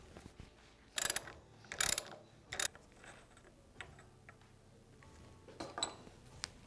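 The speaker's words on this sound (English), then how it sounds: "To remove the cap from the balance chamber, we're going to use a 32mm socket" A ratchet driving a 32mm socket to unscrew the balance chamber cap on a Showa SFF-Air TAC dirt bike fork, the axle holder clamped in a vise; several short bursts of metallic clicking with quiet pauses between, close and alone.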